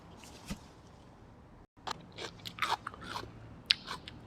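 Grilled Isan sausage eaten with ginger and fresh chili: close crunchy bites followed by moist chewing, a few sharp bursts with brief pauses between them and no talking.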